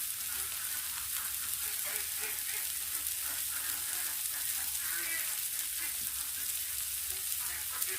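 Leafy garden greens sizzle and fry steadily in a pan, a continuous close crackle with faint stirring and no talk over it.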